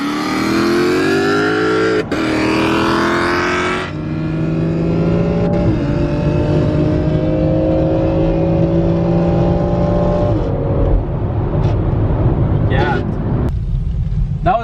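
BMW X3 M Competition SUV launching hard from a standstill, its engine roaring loud and close as it climbs through the gears with clear shift breaks, with people talking over it.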